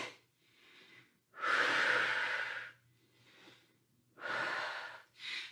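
A person breathes deeply and under control during a lower-body workout, with several long, loud, close-up breaths separated by short pauses. A faint low hum sits underneath.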